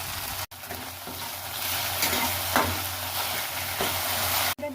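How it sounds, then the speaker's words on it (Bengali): Elephant apple pieces frying in oil with mustard seeds and turmeric, an even close sizzle with light stirring scrapes now and then, no voices. "চার থেকে পাঁচ মিনিট প্রায় ভেজে নিয়েছি"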